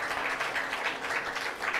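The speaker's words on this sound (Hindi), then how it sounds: "भगवान सत्यनारायण देव के लिए अद्भुत तालियां बजाना" A devotional gathering claps for Lord Satyanarayan, a soft, fairly distant ripple of many hands with a slightly pulsing rhythm, brief and quiet.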